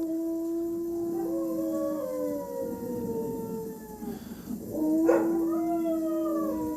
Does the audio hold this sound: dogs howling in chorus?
yes